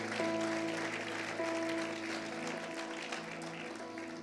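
A church congregation claps under sustained organ or keyboard tones, moderately loud and fading slightly toward the end.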